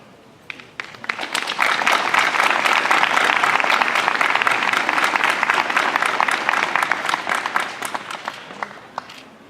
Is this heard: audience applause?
yes